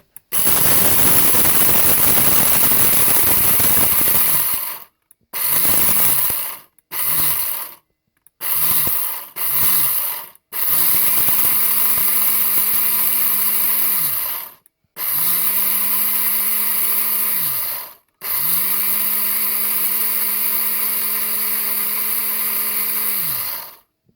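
A loud motorized blender grinds chick feed in several bursts, stopping and restarting with short gaps, then runs longer with a steady whirring hum.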